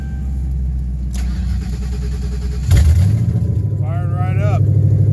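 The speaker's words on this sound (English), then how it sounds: "It fired right up today." A car engine cold-starting in a shop: a cranking sound, then the engine catches about halfway through and settles into a steady, rough idle, loud and close.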